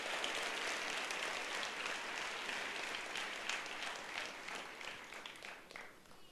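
A church congregation applauds together, a broad, steady wash of clapping that stays even and then slowly fades toward the end, with no voice on top.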